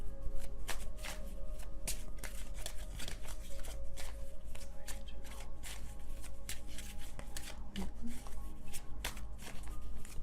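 Tarot cards are shuffled by hand in a quiet room, a continuous run of soft, crisp riffling flicks and slaps close to the microphone with no voices.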